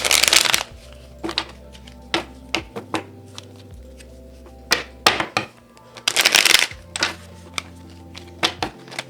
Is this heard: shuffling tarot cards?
yes